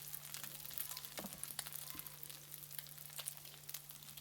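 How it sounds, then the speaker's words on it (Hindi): Salted potato chips deep-frying in oil after fish, a faint, steady crackling sizzle with scattered pops over a low electrical hum. "और इसी ऑयल में आपने चिप्स को फ्राई कर लेना।"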